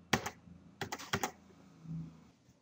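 A computer keyboard's Enter key is pressed during invoice entry in accounting software, giving a few sharp, close clicks in quick bursts, then a faint low hum.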